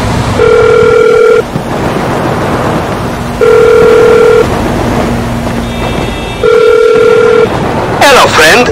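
Phone in the video game GTA V ringing in three loud repeated tone bursts with pauses between them, over steady background noise and game sounds.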